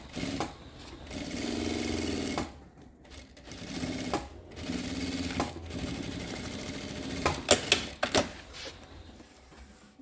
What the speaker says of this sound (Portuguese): E agora é só finalizar, fechando a costura aqui de cima, encaixando, escondendo tudo ali embaixo.